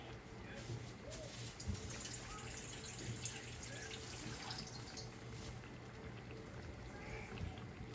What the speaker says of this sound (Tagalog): Dagdagan ko pa ng konting tubig